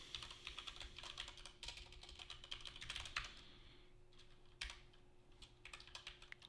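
Quick, irregular clatter of keys on a computer keyboard, close and fairly quiet, with bursts of fast typing separated by short pauses over a low steady hum.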